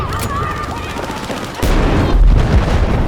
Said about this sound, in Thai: ยิงขู่เขาได้ยิงขู่